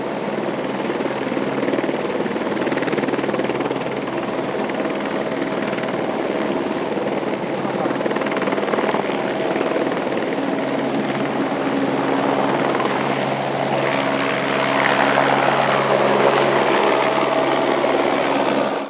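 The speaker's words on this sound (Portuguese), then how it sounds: "E você vai voar pela primeira vez de helicóptero." A police battalion helicopter runs loud and close at a public exhibition, its rotor and turbine roaring steadily throughout with a faint rise in intensity near the end.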